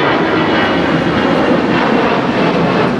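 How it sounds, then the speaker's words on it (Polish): A very large cargo airplane roars loudly and steadily at an outdoor air show on a hot day, its engines producing a dense, close, unbroken rumble for a few seconds with no voices. "bardzo duży samolot, który po prostu ma za zadanie przewozić jakieś rzeczy"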